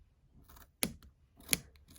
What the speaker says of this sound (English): make sure you have a very sharp scissors as well